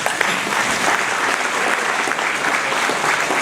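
Audience at a Burundi independence anniversary event in Brussels applauding, a steady dense wash of clapping from many hands throughout.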